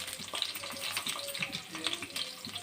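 Two green chillies, cinnamon, cloves and half a spoon of cumin sizzling in hot oil for tomato rice, a close, busy frying crackle with small pops, steady throughout and without talk.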